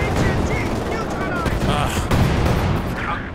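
Gunfire in Company of Heroes 2, a German versus German World War II battle: dense, loud bursts of rifle and machine-gun fire crackle continuously with heavy low-end rumble, layered under excited talk from players.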